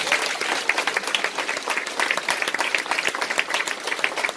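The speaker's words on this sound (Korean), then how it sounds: "박수 한번 주실래요?" An audience breaks into applause: dense, sustained clapping from a crowd that holds at a steady level for a few seconds.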